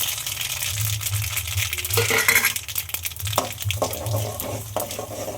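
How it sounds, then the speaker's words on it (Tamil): Mustard seeds, chana dal and urad dal frying in hot oil for coconut rice, with a steady sizzle and crackle, occasional spoon scrapes and light clinks of a pan. "கடு பொரிஞ்சிட்டு கடலப்பருப்பு உளுத்தம் பருப்பு ரெண்டுத்தையும் போட்டுணும்"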